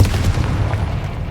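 The Confringo blasting spell bursts in Hogwarts Legacy as a loud, booming explosion with heavy low rumble, crackling and fading over about a second, with no talking.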